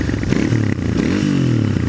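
A Royal Enfield Interceptor twin motorcycle idling and revving up close through its stock twin exhaust, a loud deep rumble with rising and falling pitch and some rattling.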